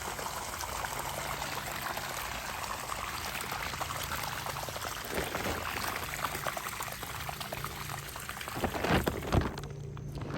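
A heavy, continuous rush of water pours down steadily outdoors, a broad constant splashing that runs for several seconds with a brief louder surge near the end.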